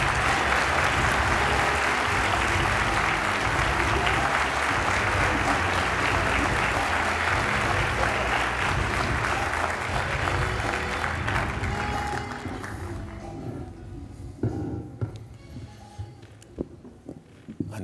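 Sustained applause fills a conference hall for an organization's CEO opening remarks, loud and even for about twelve seconds before thinning into scattered claps and faint movement.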